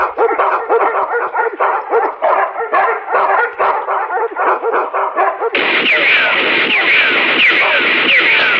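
Several dogs barking in rapid, overlapping bursts, loud and close, as guard dogs in a jungle search, with a busier, denser stretch of barking near the end under a steady background.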